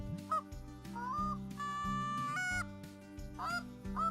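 Geese in a hunting video game honk repeatedly in clear, nasal calls over a steady low game soundtrack, with no talk.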